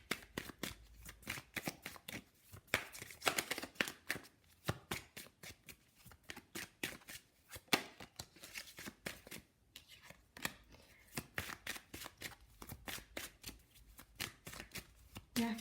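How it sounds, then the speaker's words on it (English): Love oracle cards being shuffled by hand, a long run of quick, crisp riffling and flicking bursts in an uneven rhythm, close and fairly quiet, with no talking. "I'm going to pull some love oracle cards for you."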